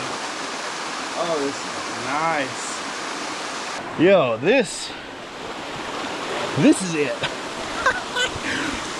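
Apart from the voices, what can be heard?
waterfall in Beavers Bend State Park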